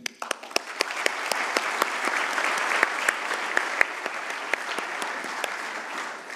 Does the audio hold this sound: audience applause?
yes